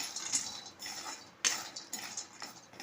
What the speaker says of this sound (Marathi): आता इथे एक लहान वाटी मी बदाम, काजू आणि पिस्ता घेतलेला आहे. हेही आपण या कढईमध्ये भाजून घेऊया.